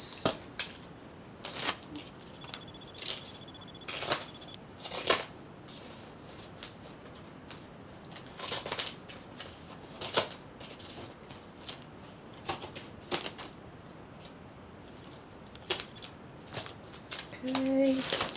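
Scissors snip off excess material on a handmade craft project in a series of sharp, irregular cuts spread across the stretch, close by and fairly quiet, with a soft rustle of material between the snips.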